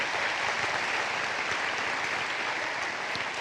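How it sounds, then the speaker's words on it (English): Dense, steady applause from a crowd at a 2025 WVWC commencement ceremony, honoring the faculty, sustaining evenly at close range throughout with no speech over it. "Let's give them a round of applause for preparing you for things that are important"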